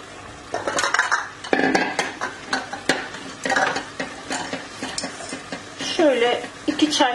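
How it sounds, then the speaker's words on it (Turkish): Fresh green beans tossed into a hot pan and stirred, with a spoon repeatedly scraping and clattering against the metal over a light sizzle, close and fairly busy throughout. "Şimdi fasulyelerimi ekliyorum."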